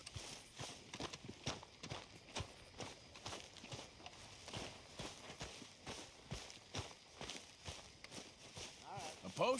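Hooves of a horse in Red Dead Redemption 2 plod along at an even walking pace, fairly close, with a soft background wash and no pauses.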